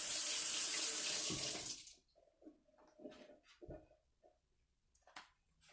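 Cherry tomatoes are washed under a running kitchen tap, a steady close gush of water for about two seconds, then the flow stops and a few soft knocks and handling sounds follow.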